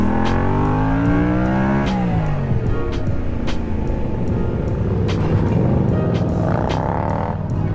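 A Yamaha stunt motorcycle's engine revs loudly and close, rising and then dropping sharply as the bike brakes into a stoppie, followed by a rough, sustained idle-rev roar and a brief climb near the end.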